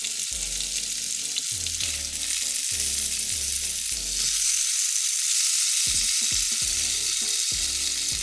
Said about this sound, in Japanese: ズッキーニと人参も何枚か焼きます。